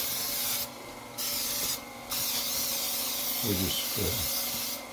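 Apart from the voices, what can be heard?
cooking spray on baking pan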